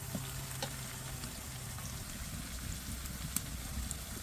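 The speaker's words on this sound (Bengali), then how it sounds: "রসুনটা একটু ভালো করে কষামু, যাতে রসুনের যে কাঁচা একটা গন্ধ আছে এটা চলে যায়" Garlic and onion fry in oil in a pan for a little fish bhuna, giving a soft continuous sizzle with light crackles and a faint low hum, with no voices over it.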